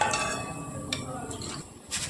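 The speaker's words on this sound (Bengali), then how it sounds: "যে ছাকনাটা আমি বেসন ছেঁকেছিলাম এবার হাতায় করে তুলে এর মধ্যে দিয়ে দেব" Fried mihidana is ladled into a metal strainer to drain oil, with faint sizzling under scraping and clinking of ladle against metal, close and fairly quiet.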